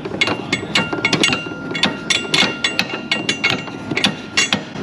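A small ball peen hammer taps roll pins into a GM 3.6 engine part in an auto repair shop, giving a run of quick, light metallic taps in uneven bursts, close and fairly loud.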